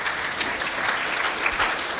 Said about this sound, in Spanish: Dele fuertes palmas a nuestro Rey